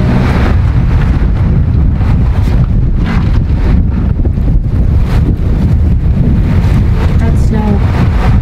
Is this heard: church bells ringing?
no